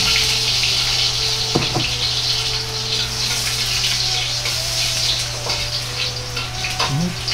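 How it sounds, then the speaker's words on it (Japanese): Garlic and chili fry gently in oil on low heat, giving a steady bright crackling sizzle throughout, with a low hum beneath and occasional light knocks. "ニンニクと唐辛子を低温熱に入れ弱火で炒めます"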